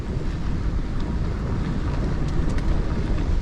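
Steady, loud wind of 17 mph with gusts to 35 roars and buffets the microphone without a break during a gravel bike ride, a rough low rumble throughout.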